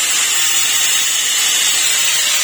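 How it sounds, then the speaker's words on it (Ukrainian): Angle grinder running off an inverter powered by a Nissan Leaf, giving a steady, loud high-pitched whine that holds without a break, with no voices. "Зараз протестуємо болгарочку"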